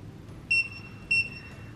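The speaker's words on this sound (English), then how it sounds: "The buzzer will beep twice upon completion of glass calibration." A Presidium Gem Tester II gemstone tester's buzzer gives two short, high electronic beeps about half a second apart after glass calibration, clear over a quiet background.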